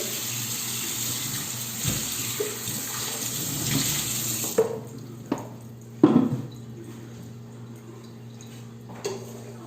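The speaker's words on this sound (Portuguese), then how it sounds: "Deixa eu só limpar meu liquidificador novamente." Tap water runs steadily into a kitchen sink while a blender is rinsed, the stream shifting and splashing with a few sharp clunks of the jar against the basin, fairly close and with no talking.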